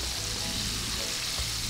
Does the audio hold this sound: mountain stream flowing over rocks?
no